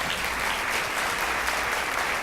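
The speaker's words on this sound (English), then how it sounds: "Can we give her a round of applause just for that?" Audience at a business leaders panel claps steadily and densely for just over two seconds, a loud, even wash of applause with no pause.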